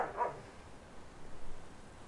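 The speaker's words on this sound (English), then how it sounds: "That's my dogs." Dogs barking: one or two short yaps right at the start, fairly faint and somewhat distant, followed by quiet low background rumble with no talk.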